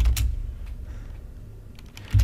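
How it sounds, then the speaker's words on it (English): Quick keystrokes on a computer keyboard while building a Power BI query, a few close, light clicks with a low room hum beneath and no talking. "So as I was typing that out"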